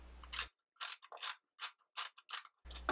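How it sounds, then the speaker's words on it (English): Ratchet wrench clicking as 10mm bolts come off an engine bracket on a Mercedes 300SL R129 with an M104 engine, several short bursts of quick pawl clicks separated by brief pauses, close and clear. "I'm going to remove all 4 10mm bolts and lift the bracket up out of the way"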